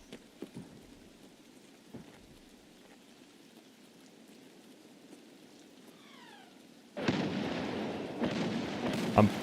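A mortar barrage in the video game Escape from Tarkov, heavy booming impacts and rumbling blasts kicking in suddenly after a quieter stretch of soft ambience, loud and repeated.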